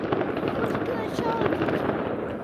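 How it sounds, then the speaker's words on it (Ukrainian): New Year fireworks going off out of sight behind apartment buildings, a dense run of distant crackling bursts and pops, with people talking over them. "Вони ж тут випендрюються на новий рік, один перед одним, які крутіші, які салюти."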